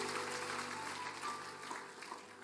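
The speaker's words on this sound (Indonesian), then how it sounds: "Tepuk tanganlah semua." During a church sermon the whole congregation applauds, a soft continuous rush of many hands clapping at once, heard from a distance with a faint hum underneath.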